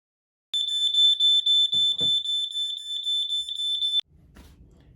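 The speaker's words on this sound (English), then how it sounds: "when it goes off in the middle of the night and you hear this noise like this" An RV propane detector alarm goes off with a loud, piercing high-pitched beeping in rapid pulses for about three and a half seconds, then cuts out abruptly, leaving faint low rumble.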